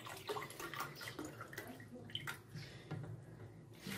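Water pours from a mug into a mixing container for a chilled biscuit cake, a close, steady splashing stream lasting several seconds with small drips, no talking.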